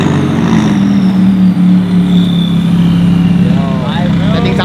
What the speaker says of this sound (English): This guy's car sounds so loud.